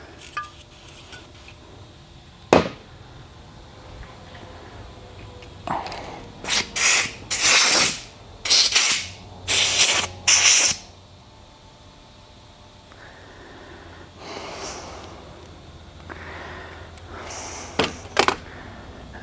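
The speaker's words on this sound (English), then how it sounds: "So I'm going to get some brake clean." Brake cleaner sprays in a run of loud, hissing bursts onto parts of a 2023 KTM 300XC shock during a rebuild, with an isolated clank before and softer tool clatter afterward.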